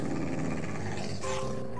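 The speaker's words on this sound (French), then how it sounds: "il y a deux chiens. Ils sont tous en train de grogner." Two dogs growling together in a steady, close, continuous rumble that runs throughout without a break.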